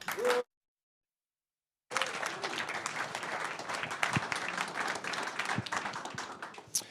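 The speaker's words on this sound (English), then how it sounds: "Your first time that you'll be applauding is about now" An audience at a business innovation pitch competition applauds the first pitch. A brief burst comes before a gap of silence, then sustained, fairly loud clapping from many hands continues, with a few sharper claps standing out.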